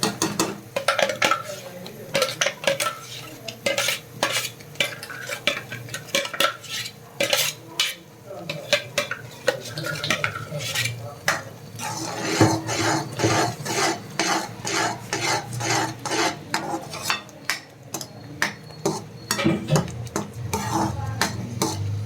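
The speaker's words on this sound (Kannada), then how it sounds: "ಈಗ ನಾನು ಏನು ಉಬ್ಬಿಟ್ಕೊಂಡಿದ್ದೀನಿ ಪಾಲಕ್ ಗ್ರೇವಿನ, ಈಗ ಇದಕ್ಕೆ ಮಿಕ್ಸ್ ಮಾಡ್ಕೊತಾ ಇದ್ದೀನಿ" A utensil stirs and mixes palak (spinach) gravy in a pan, giving continuous rhythmic scraping and clinking against the metal, with a faint sizzle beneath the repeated strokes.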